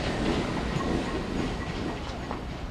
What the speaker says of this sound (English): Train coming in now from Lowestoft.